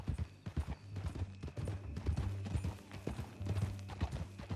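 Horse hooves clip-clopping at a walking pace in the game Red Dead Redemption 2, a steady rhythmic plod of dull thuds, moderately close over low background.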